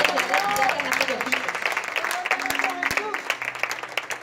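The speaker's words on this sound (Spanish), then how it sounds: "Denle un aplauso para que se despierte" A church congregation claps under a preacher's continuing voice, the applause fairly light and scattered while the talk carries on over it.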